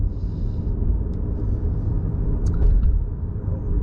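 A 2020 Honda Accord Hybrid driving at night, heard from inside as a steady low road rumble and engine hum with faint high ticks, no voices.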